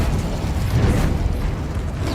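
An Incendio fire spell cast in Hogwarts Legacy, a dense rushing roar of flame with low rumbling weight, loud and continuous for a couple of seconds with no voice over it.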